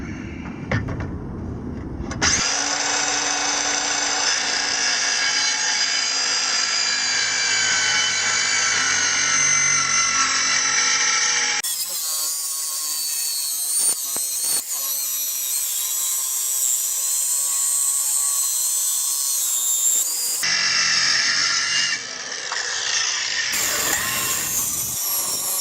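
A power tool saws a square opening into a trailer ramp, cutting loudly and close up in long continuous passes with a high grinding whine, briefly stopping and restarting in the middle.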